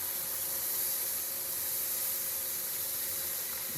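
A steady, even sizzle and hiss of liquid poured into a hot pan for homemade gravy, continuous and fairly loud throughout, with no talking.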